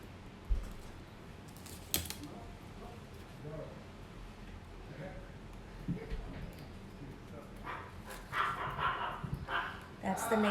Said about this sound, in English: just to let you all know that that is the neighbor's dog